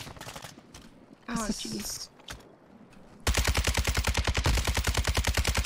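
Rapid automatic gunfire in Call of Duty Warzone erupts as a loud, sustained burst of evenly spaced shots filling the latter half, after a stretch of quieter game sounds and brief speech.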